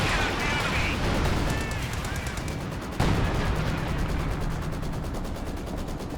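Battle noise from Company of Heroes 2 with an anti-tank gun: rapid bursts of small-arms and machine-gun fire crackle throughout, and one sharp, louder cannon-like blast punches through midway.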